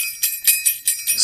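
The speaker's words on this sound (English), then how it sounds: "On this particular night, the spirit's bell was most sonorous." A spirit's bell rings in bright, high chimes, struck about four times in quick succession with a shimmer that carries between strikes.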